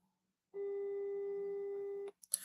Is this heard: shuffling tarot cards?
no